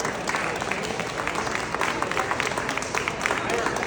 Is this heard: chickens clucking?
no